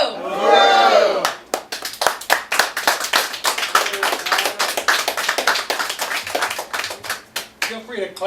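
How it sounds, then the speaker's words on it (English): A rally crowd in Seattle claps for a speaker in quick, sharp, irregular bursts that run loud and close for most of the stretch, after a shouted voice at the start and before it thins out at the end. "Feel free to clap longer and louder for Matt"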